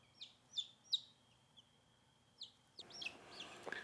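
Newly hatched baby chicks peep in a quiet brooder, a handful of thin, high chirps in quick bursts, faint and close with a soft hiss behind them.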